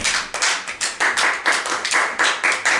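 A church congregation applauding at a prophetic worship service, a dense, steady round of hand clapping lasting the whole stretch, fairly close and with no voices over it.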